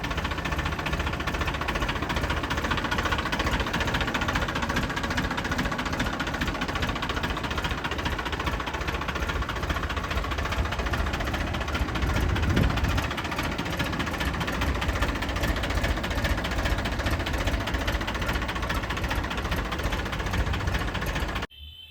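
A 2011 New Holland 3230 tractor engine runs steadily throughout, a loud, continuous mid-pitched diesel drone with an even knocking idle and no talk over it.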